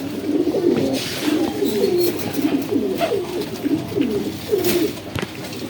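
Pigeons cooing repeatedly in a soft, rolling rhythm, close by, with light rustling and background noise.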